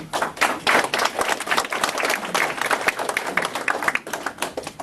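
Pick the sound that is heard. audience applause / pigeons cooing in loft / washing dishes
audience applause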